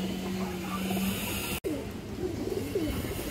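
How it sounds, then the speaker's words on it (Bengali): A female Army-breed pigeon coos nearby, a few soft, rolling low calls repeated over a light background hum, with a brief dropout partway through. "আর একটা মাদি কবুতর মাশাআল্লাহ, আর্মি শিলের একটা মাদি"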